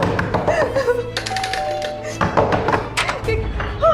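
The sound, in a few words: banging on a door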